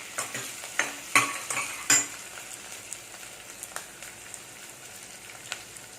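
Cabbage chana dal curry ingredients cooking in a pan, with soft sizzling and a few sharp clinks of a spoon stirring against the metal early on, then quieter, steady frying.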